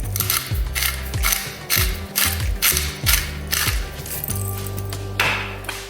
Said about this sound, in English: And some freshly cracked pepper.